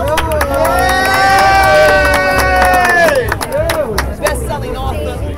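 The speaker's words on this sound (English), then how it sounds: "Come on, let's make some noise. Let's get applause." At a celebrity red-carpet event, a close crowd cheers with sustained whooping voices, scattered hand claps and background chatter, staying loud before breaking into mixed shouts.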